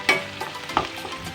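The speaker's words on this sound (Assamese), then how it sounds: "এইখিনিও মই পিঁয়াজখিনিৰ লগত 2 মিনিট সময় ভাজি লওঁ।" Onions and tomatoes sizzle and fry in a pan while being stirred, a close, steady crackle with a few brief scraping stir sounds and no talking.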